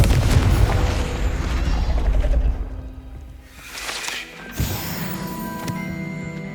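A Confringo fire spell cast in Hogwarts Legacy on PS5 blasts with a loud booming burst that rumbles and fades, then a second sharper impact follows, with no speech.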